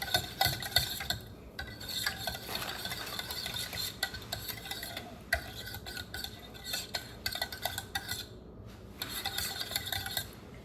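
A spoon stirs thickening banana pudding in a pot, scraping the bottom in a steady run of close, busy metallic scrapes and clinks with brief pauses, no talking.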